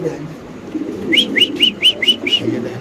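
Young racing pigeons call in a short series of about six evenly spaced, clear chirping notes, fairly close, over a low, murmuring background rumble.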